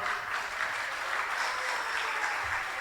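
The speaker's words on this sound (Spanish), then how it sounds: "Fuertes los aplausos, por favor." Seminar audience applauding a guest speaker, a soft, even patter of many hands clapping heard from a distance, steady for a few seconds with no voices over it.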